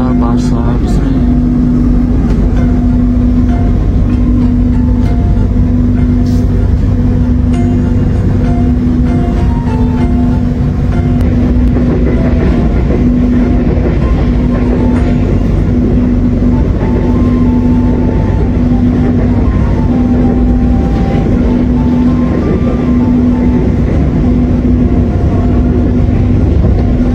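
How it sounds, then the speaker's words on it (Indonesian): The Senja Utama Jogja passenger train pulls out of Jakarta Pasar Senen station in the evening, with a loud, steady rumble of running gear and a sustained tonal hum throughout, and speech occasionally over it. "Senja Utama Jogja diberangkatkan dari stasiun Jakarta Pasar Senen"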